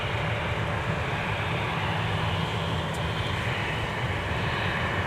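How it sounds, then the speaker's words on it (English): A jet airliner rolls for takeoff from runway 12 left at Minneapolis–St. Paul Airport, its engines a loud, steady, broadband roar that fills the whole stretch without pause or talk. "runway 12 left, clear for takeoff"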